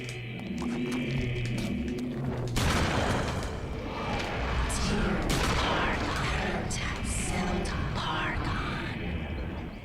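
Gunfire aimed at winged enemies in the video game Eternal Darkness, sounding as dense, continuous bursts of shots layered with roaring creature cries and shifting game effects, loud and sustained throughout.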